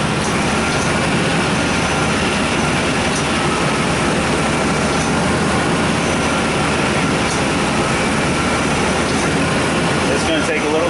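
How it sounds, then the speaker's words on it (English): A car engine runs with its AC compressor engaged while the system is charged, making a loud, constant, dense mechanical drone with a low rumble that stays steady throughout. "you just heard the AC compressor kick on"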